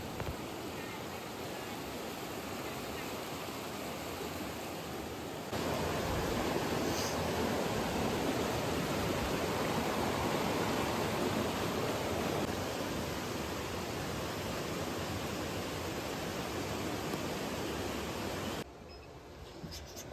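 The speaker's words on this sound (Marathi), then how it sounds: "तुम्ही पाण्याचा आवाज ऐका आता." Rain-fed water flows strongly along both sides of a path in Konkan during the monsoon, a steady, broad rushing roar that swells louder after a few seconds and holds for a long stretch.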